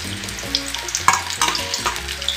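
Ladlefuls of spiced baby potato batter drop into hot oil in a kadhai and deep-fry with a bubbling crackle, heard close under light background music.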